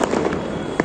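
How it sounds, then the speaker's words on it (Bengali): Fireworks going off at a New Year celebration, a quick crackling string of pops with a sharper bang near the end, heard close and fairly loud in a brief burst. "এই যে আতশবাজি এবার আমরা করলাম"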